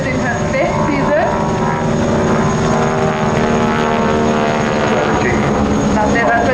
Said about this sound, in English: Is the aeroplane as noisy up there as it is down here? Because it's the propeller, isn't it?